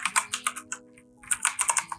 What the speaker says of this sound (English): I will type shortcode